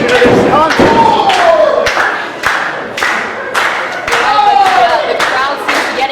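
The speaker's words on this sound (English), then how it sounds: "The crowd seems to be getting behind Ayzali. You know, they're clapping for her." A crowd claps at a women's wrestling match in a steady, evenly spaced rhythm of sharp, loud claps, joined by thumps from the ring and ringing echoes under a commentator's voice.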